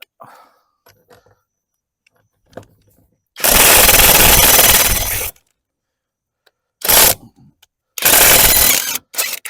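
A Task Force heavy duty impact gun breaks loose an old, long-seated lug nut on a VW Beetle under restoration, firing in loud hammering bursts of about two seconds, then a short rattle and another long burst, with quiet gaps between.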